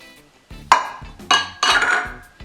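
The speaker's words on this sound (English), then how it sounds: "a spatula to help me get everything out" Spatula scraping tomato sauce out of a container into a meatloaf mix, giving several close knocks and scraping strokes with clinks against the rim, and no speech.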